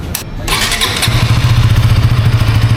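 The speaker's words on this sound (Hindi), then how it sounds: "फिलहाल मैं आपको इसका एग्जॉस्ट नोट सुना देता हूँ।" A KTM Duke 160 motorcycle engine fires up with a brief clatter at a showroom launch event, then settles into a steady, throbbing exhaust idle close by.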